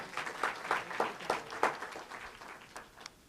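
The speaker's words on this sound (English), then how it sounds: "let's clap." Employees applaud at a quarterly commission meeting in a brief, quiet smattering of claps that thin out and fade, heard from some distance.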